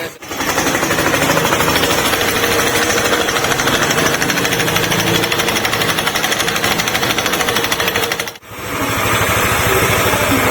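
A Yamaha NMAX scooter engine, now running smoothly, runs steadily and loudly with a rapid, even rattling putter, briefly dipping once near the end before resuming.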